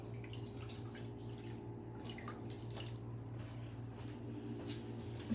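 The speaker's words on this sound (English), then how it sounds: "Just to put a little water in there to let it come to cook a little bit so they get nice and soft." Water is poured into a cooking pot holding artichokes, a faint trickle with light splashes and drips running steadily throughout at a low level.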